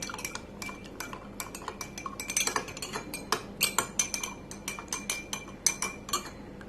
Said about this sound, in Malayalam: ആ മഞ്ഞൾപ്പൊടി ഇതിനകത്തേക്ക് ഇട്ടിട്ട് നല്ലതുപോലെ മിക്സ് ചെയ്യുവാണ്